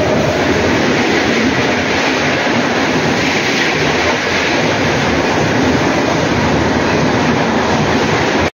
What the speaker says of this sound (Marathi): हे बघा आपली ट्रेन आलेली आहे आता